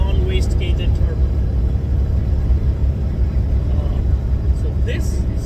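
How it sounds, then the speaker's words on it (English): A Detroit Series 60 14-liter truck engine with EGR and its stock wastegated turbo idles close by, giving a loud, steady, unbroken drone and rumble throughout. "So this sound of the truck I'm recording now is with the EGR and the stock turbo, wastegated turbo."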